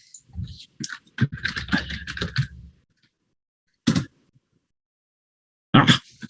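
Separate keystrokes on a computer keyboard, likely a Control Shift S shortcut while saving a Java file: a quick burst of clicks, then two isolated sharp taps spaced a couple of seconds apart, close and clear in a quiet room.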